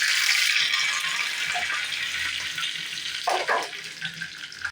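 Hot oil for chutney tempering sizzles loudly at first and gradually settles with the heat off, with a brief sharper crackle near the end as curry leaves are added to the pan.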